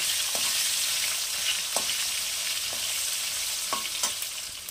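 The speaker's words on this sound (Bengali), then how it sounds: "সেই জন্য ফুলকপিটাকে একটু লাল করে ভাজবো" Cauliflower frying in oil sizzles steadily and fairly loudly, with occasional scrapes and taps from stirring scattered through.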